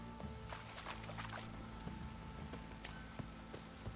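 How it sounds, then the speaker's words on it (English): Soft, steady patter of rain in The Witcher 3, with scattered droplet ticks over a faint low hum, fairly quiet and unbroken. "This downpour's a bastard."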